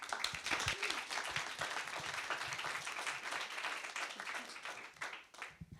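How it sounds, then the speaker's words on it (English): Audience applause at an evening talk event, dense steady clapping from a seated crowd that holds throughout, with faint voices mixed in. "Can we have a round of applause, please?"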